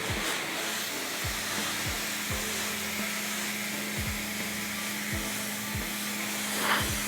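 A Ryobi pressure washer running at roughly 1,000 PSI and 1.2 gallons a minute sprays water across car paint in a steady, continuous hiss, with a low motor hum and repeated short thumps underneath.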